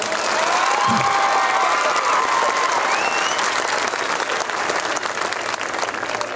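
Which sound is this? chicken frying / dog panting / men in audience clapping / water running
men in audience clapping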